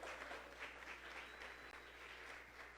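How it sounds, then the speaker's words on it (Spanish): An audience at a talk applauds, a faint, steady wash of clapping that sounds distant and continuous throughout, with no speech over it. "Un aplauso para mi mamá que está hoy aquí de visita"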